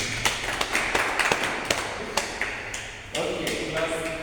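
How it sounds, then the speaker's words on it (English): A classroom of students clapping for a classmate: scattered, irregular sharp claps spread through a few seconds, with voices and room noise between them. "Clap for yourself"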